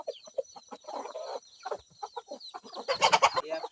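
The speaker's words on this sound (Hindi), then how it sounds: "ये आपका मुर्गी का यूनिट है ना?" Desi breed chickens in a poultry unit on an integrated farm cluck in quick, uneven bursts, close by. The calls grow into a louder squawking flurry near the end.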